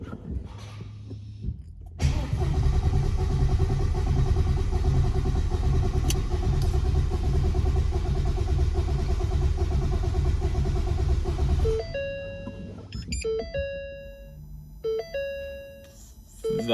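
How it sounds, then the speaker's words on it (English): A turbocharged Mustang GT engine cranks over steadily on the starter during a compression test, a loud, even churning drone lasting about ten seconds before it stops and a few chime-like tones follow. "We have the gauge hooked up to cylinder 8 right now, and we're about to turn it over and see how much compression it holds"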